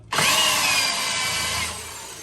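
A power drill whirs up sharply and runs at a steady high pitch, boring into rusty metal, then eases slightly toward the end.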